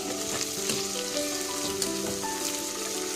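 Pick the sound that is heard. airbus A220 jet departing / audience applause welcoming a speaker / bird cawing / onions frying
onions frying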